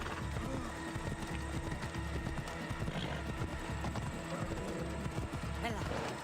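Steady galloping horse hooves from Assassin's Creed Odyssey, a continuous rhythmic clatter running throughout at moderate loudness, mixed with game background sound.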